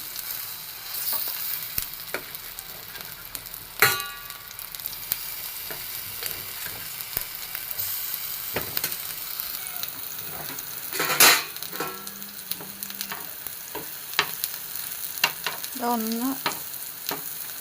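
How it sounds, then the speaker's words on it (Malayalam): Banana pieces frying in ghee in a pan make a close, continuous sizzle, broken by sharp scrapes and clatters of a spoon stirring and turning them, with no talk. "ഇതെല്ലാം ഒന്ന് ഫ്രൈ ചെയ്തെടുക്കാം"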